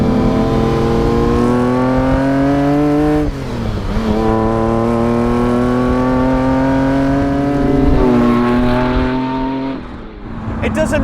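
A Lamborghini Diablo SV engine accelerating hard, a loud, close, rising roar that climbs in pitch through successive gear pulls, with a brief dip between shifts and a fade at the end.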